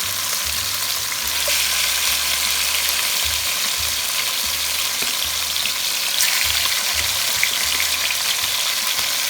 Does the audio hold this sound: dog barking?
no